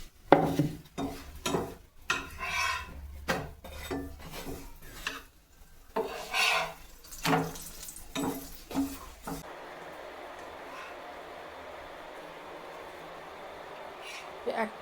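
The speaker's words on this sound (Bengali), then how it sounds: "একটা চাটুতে শুকনো সেঁকা হচ্ছে আর একটা চাটুতে তেল দিয়ে সেঁকা হচ্ছে।" Naan flatbreads toasting on two griddles, one dry and one oiled, with scraping, rubbing and utensil clatter in an uneven rhythm that gives way to a steady sizzling hiss, close and moderately loud.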